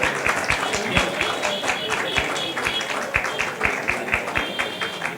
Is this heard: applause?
yes